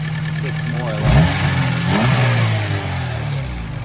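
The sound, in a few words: 2000 Acura Integra B18C1 engine revving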